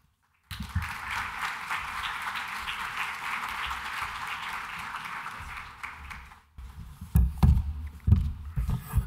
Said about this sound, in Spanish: pedir un fuerte aplauso para nuestro prorector Ernesto Silva